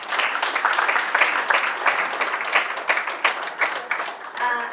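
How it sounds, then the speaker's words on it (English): A gathering at a national climate dialogue gives a gospel hand clap, a dense, steady wash of many hands clapping together for several seconds, with faint voices mixed in. "So let us give the gospel hand clap."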